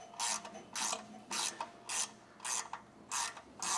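A 3/8 wrench ratchets on the battery bracket bolts of a Tilmor tractor, seven evenly spaced bursts of bright metallic clicking, close and loud, with short pauses between strokes and no voices.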